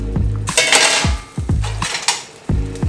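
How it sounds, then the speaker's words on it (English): A small tin cooking pot on the stove has its lid lifted off, giving several close metallic clanks and scrapes of metal on metal over a low bubbling boil while Jamaican red pea soup cooks. "Remove the cover."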